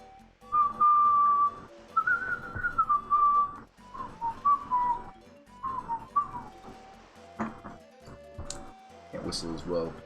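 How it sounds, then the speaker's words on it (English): A person whistles a wavering tune in short phrases with brief pauses, fairly close and clear, with other clicks and noises creeping in near the end. "Can't whistle as well as I sometimes can right now."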